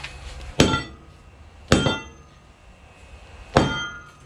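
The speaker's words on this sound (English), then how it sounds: "Hammer." A hammer strikes a bent steel drag link from a Suzuki Vitara's steering three times at uneven intervals, each sharp clang ringing briefly before fading.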